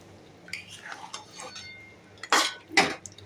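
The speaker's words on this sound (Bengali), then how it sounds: "এরপর এটাকে লো ফ্লেমে আমি ভালো করে কষিয়ে নেব" Mutton in yogurt stirred and sautéed in a pan over a low flame gives a few scattered metallic scrapes and clinks of a utensil against the pan, quiet between them, with two louder scrapes near the end.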